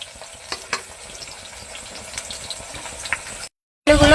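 Potatoes fry in hot oil in a pan, a steady close crackling sizzle with a few sharp stirring knocks, cutting off briefly before a louder burst of sizzling resumes.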